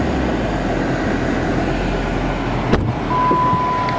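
A supercharged 2012 Dodge Challenger SRT8 with an Edelbrock E-Force Whipple blower idles with a steady, deep rumble close by, broken by a single sharp click near the end.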